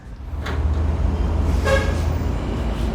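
A restored battery-powered Rubicon ride-on toy car gives a couple of short electronic horn toots over a steady low motor hum, close and fairly loud.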